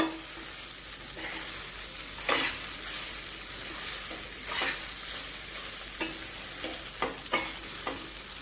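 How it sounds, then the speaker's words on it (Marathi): Poha being stirred with spices in a frying pan, giving a soft continuous sizzle broken by several sharp scraping strokes of the spoon against the pan, close and steady with no talking. "सर्व मसाले आणि पोहे आपण व्यवस्थित मिक्स करून घेऊया"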